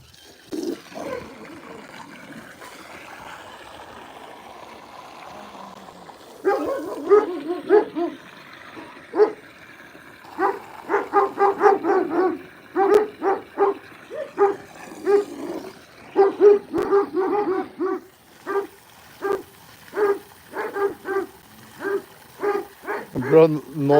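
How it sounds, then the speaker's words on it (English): A puppy with an unusual condition barks in a run of sharp, repeated yaps and yips, close and fairly loud, after a quieter whimpering stretch. A person talks briefly in the background. "This one was hungry, that's why he was barking."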